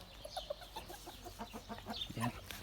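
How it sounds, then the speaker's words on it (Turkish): Laying hens in a home garden cluck in a quick, uneven series of short calls, close and fairly loud against faint background noise. "Yumurta tavuklarımız."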